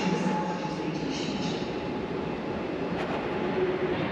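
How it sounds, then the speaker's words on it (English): An ED250 Pendolino train arrives at a station platform in Warsaw, a steady low rumble and rolling hiss that fill the whole stretch, with a faint high squeal of wheels near the end. "at 10:25 our ED250 Pendolino rocks up"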